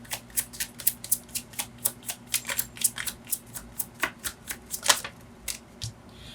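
Tarot cards are shuffled and drawn in a quick run of crisp, snapping riffles, close and fairly quiet, with no talking.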